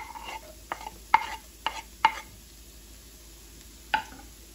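Garlic stirred into softened, browning onion in a pan, with soft sizzling under a handful of sharp spoon-on-pan scrapes and clicks, close and fairly quiet.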